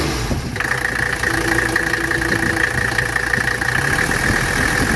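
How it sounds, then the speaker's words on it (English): 1983 Mercedes 300D diesel engine idling, a steady, close rattling idle with a faint knock and a sustained whine, even and continuous throughout. "Excellent, excellent, very strong engine."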